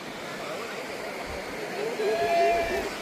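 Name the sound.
Kosi river water flowing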